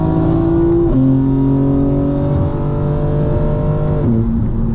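A 2025 BMW M4 Competition revs hard while driving, its engine note climbing through gears with sharp shift breaks, loud and close from inside the car with no talk.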